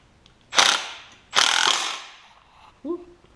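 Two bursts of rapid mechanical rattling from a power tool or ratchet tighten a nut on the front axle of a Craftsman LT1000 riding mower, close and loud, followed by a short quieter sound at the end.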